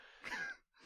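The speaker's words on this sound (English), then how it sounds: "And I'm coughing now." A single sharp cough bursts out at the end, following a brief throat-clearing rasp, close and loud in an otherwise quiet room.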